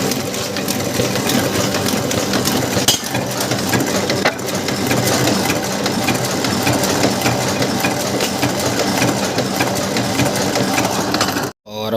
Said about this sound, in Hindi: और उसके बाद अपन यही शुभारंभ वाले लिफाफे प्रिंट करने लगे हैं गोल्ड शोरूम के।